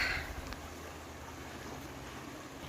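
Rushing rapids on the Upper Kuranakh river, a steady broadband roar of churning water heard from nearby with no talk over it.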